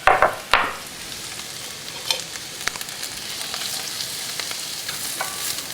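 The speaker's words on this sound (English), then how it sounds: "We're going to saute this for about 4 minutes, 4 to 5 minutes, just until it's kind of translucent." Onion and carrot sauté in a pan for shepherd's pie, a soft steady sizzle with a few sharp utensil knocks at the start and scattered stirring clicks after.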